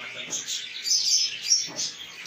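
Blue and albino Fischer's lovebirds chirping in a breeding setup, a run of close, high, rapid tweets and squeaks that continue without pause.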